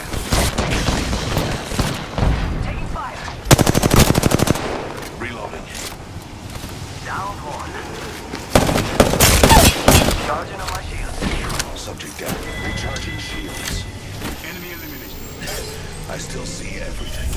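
Video-game gunfire with bursts of shots and heavy booms, loudest around the fourth and ninth seconds, with a voice speaking between the volleys.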